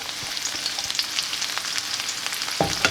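Onion frying in a hot pan for a soya dish, a close continuous sizzle with crackling spits and a stirring scrape near the end.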